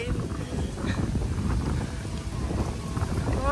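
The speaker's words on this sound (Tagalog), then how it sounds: "Lakas ng hangin." Strong gusts roar steadily into the microphone outdoors as rain begins, a dense continuous buffeting rumble with faint voices underneath.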